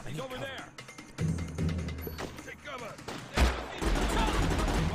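Rapid bursts of machine gun fire in the video game Unearthed, loud and continuous across the moment, with someone talking over the shooting.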